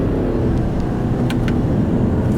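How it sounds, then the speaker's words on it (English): A 2014 Subaru Forester XT drives with a steady, loud engine and road drone from inside the cabin, and a couple of faint clicks are heard as the paddle shifter is pulled. "You can hear it's changing almost immediately after I pull the paddle."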